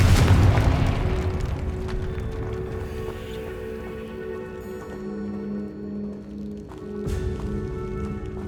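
Spell blast in the video game Hogwarts Legacy: a heavy booming explosion opens loud and close, then a rumbling tail fades under sustained game music and ambience.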